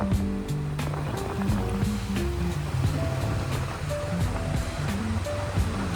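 Heavy rain pours down outdoors during a sudden downpour, a steady, dense hiss and wash of falling water that fills all six seconds at an even loudness, with a few faint tonal sounds underneath.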